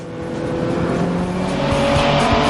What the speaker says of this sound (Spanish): Este Ferrari 410 Sport, fabricado en 1955, aún es capaz de alcanzar gran velocidad en línea recta.